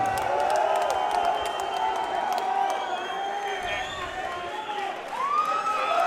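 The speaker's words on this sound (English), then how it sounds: "A sellout crowd is on their feet in anticipation for what is going to be an explosive welterweight matchup" A sellout arena crowd at an MMA welterweight event roars and cheers on its feet, a dense, continuous wash of noise with voices mixed in throughout.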